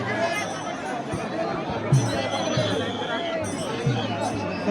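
Crowd of pilgrims on the wari procession to Pandharpur, a steady murmur of many voices and chatter with occasional soft knocks, people talking close by.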